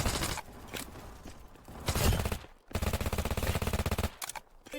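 Weapons in a shooter video game fire in dense, rapid automatic bursts, loud and close, with brief pauses between volleys.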